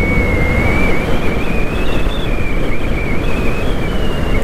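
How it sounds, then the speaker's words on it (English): Strong wind channeling through a small canyon near Fairy Lake, Montana roars steadily against the microphone, a constant heavy buffeting rumble with a thin whistling tone on top, no voices. "It's really windy here."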